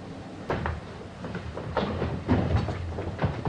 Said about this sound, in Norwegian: Så kom da toget da!